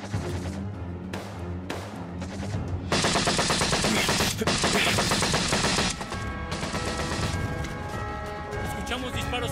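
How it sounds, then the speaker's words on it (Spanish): Gunfire from a hillside battle in a Spanish-language action film, heavy bursts of automatic fire crashing loudly and continuously over dense music and shouting, with a brief pause before the volley resumes. "Escuchamos disparos sobre el monte."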